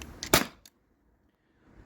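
A T4E HDP50 Gen 2 CO2 pistol fires a nylon ball in a single sharp, close pop with a short hiss of gas, followed by near silence.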